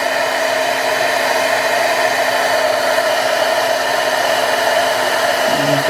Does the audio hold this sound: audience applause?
no